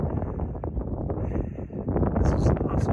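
Cold wind buffets the microphone near the top of Rock Pass on a mountain trail, a rough, gusty roar that strengthens toward the end.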